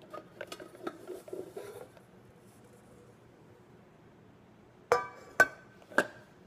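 Camping cookware kit being unpacked: a quiet patter of light knocks and scrapes early on, then three sharp metallic clanks of pots, lids and plates set down, close and alone.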